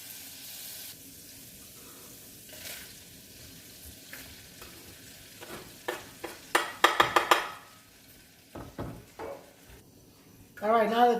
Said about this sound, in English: we're going to go ahead and add in the almonds